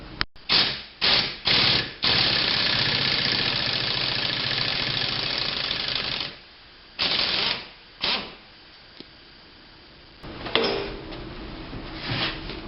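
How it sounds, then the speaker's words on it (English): Mechanic working on the cam sprocket bolt of a Ford Focus SPI engine during cylinder head replacement: several short bursts of rattling impact-wrench hammering, then a long sustained run of it, followed by more brief bursts and clinking. "I guess the next thing I'm going to do is remove the bolt that holds the cam sprocket on."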